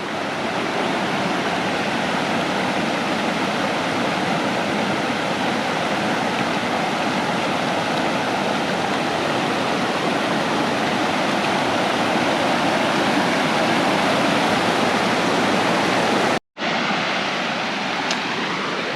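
Water rushing steadily through a gap in a torn-out beaver dam, a loud broadband wash that holds constant and close for nearly the whole stretch, cut by one brief dropout near the end, with no talking.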